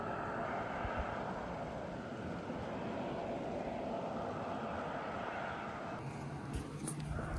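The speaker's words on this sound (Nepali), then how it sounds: "चम्सुमको प्लेन त्यहाँ अब उड्न लाग्दैछ" A small airplane prepares for takeoff at Jomsom airport in Mustang, its engine a steady broadband roar that fills the whole span, distant and continuous, with faint rising noise near the end.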